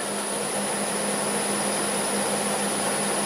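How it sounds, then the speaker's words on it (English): A 1/2-inch bowl gouge cuts an uneven wooden bowl blank spinning on a wood lathe at about 1100 RPM, giving a steady, loud, continuous roar with a faint low hum and no breaks. "I need to cut that away and make it round. And I will be using my 1/2" bowl gouge for that."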